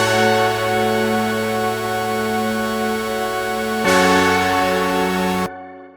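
A layered synth with its mixer effects switched off, heard as a steady, sustained chord tone with no stutter that shifts to a brighter chord near the end before cutting out, loud and alone.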